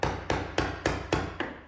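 A hammer taps a chisel wedged into a crack between old floorboards, six crisp, evenly spaced strikes each with a short ringing decay, close and clear with no talking.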